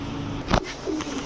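Pigeons at a bird market where Budapest, Gorra and other fancy breeds are sold give a short, soft coo with a brief sharp rustle, close by against low background chatter.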